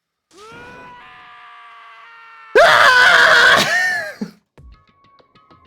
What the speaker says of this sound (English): Taka's sad screams invaded our skulls.